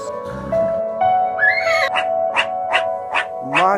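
A horse whinnies, opening with a rising squeal and then breaking into a rapid series of shaky, pulsing neighs that run for several seconds.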